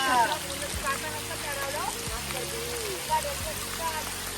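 Heavy rain falls on a farm field as a soft, steady patter and hiss in the background, with faint voices and low murmuring sounds underneath.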